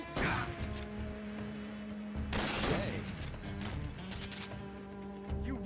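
Gunfire cracks in Metal Gear Solid 3: Snake Eater, with a few sharp, loud shots spaced several seconds apart over a steady hum, one trailing into a brief crash.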